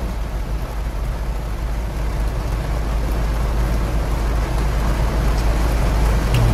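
Heavy rain pouring in a rainstorm with thunder and lightning, heard from inside a moving car: a dense, steady drumming hiss over a low engine and road rumble, growing slightly louder.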